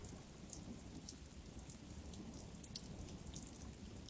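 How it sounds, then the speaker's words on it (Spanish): Steady rain falls with a constant hiss of drops hitting surfaces, with low rumbling like distant thunder underneath, fairly quiet and continuous throughout with no voices. "Está empezando a llover."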